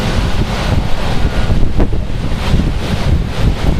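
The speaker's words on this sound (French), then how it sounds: "Et surtout que le vent n'est pas prêt de stopper encore." Strong storm wind from Storm Caetano in Clermont-Ferrand buffets the microphone in loud, gusting roars that swell and ebb continuously, close and unbroken, with no one speaking.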